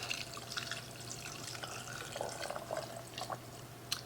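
Turkey broth pours from a stock pot into quart canning jars in a home kitchen, heard as quiet, faint trickling and dripping liquid with a few small clinks.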